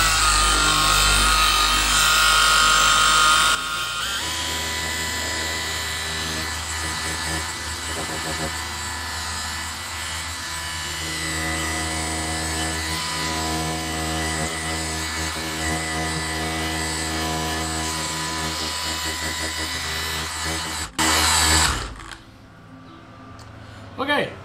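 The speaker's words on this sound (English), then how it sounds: "I'm using a 3-inch Lake Country pad, again with the Koch CHEMIE Micro Cut" Machine polisher running steadily with a 3-inch Lake Country pad and Koch Chemie Micro Cut compound on a VW Dune Buggy's paint, a loud continuous whir that dips briefly before stopping near the end.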